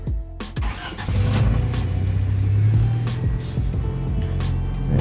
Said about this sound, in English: I'm about to start the car right now.